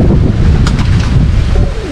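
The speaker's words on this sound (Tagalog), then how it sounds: "Lakas ng hangin eh." Strong wind buffets the microphone in a steady, close rumble with gusty low-frequency roar throughout, during a pigeon derby race release watch; faint distant sounds sit under the blustery noise.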